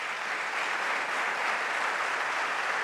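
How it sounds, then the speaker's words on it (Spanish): Audience applause for Alejandro at an academic-life talk during the Santo Domingo book fair, a steady dense wash of clapping from a sizeable crowd, sustained and even throughout with no voices over it. "yo quiero un aplauso para Alejandro"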